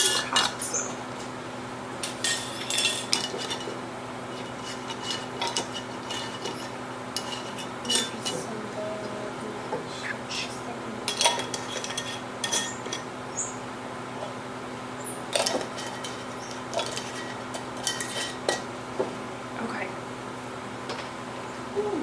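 Metal canning jar rings are screwed onto hot glass jars in a kitchen, giving repeated sharp clinks and scraping taps of metal on glass throughout, near and fairly loud over a low steady hum.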